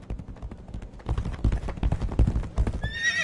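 A horse gallops in with hooves clattering faster and louder as it nears, then gives a sharp neigh at the end, in a dark fantasy game scene.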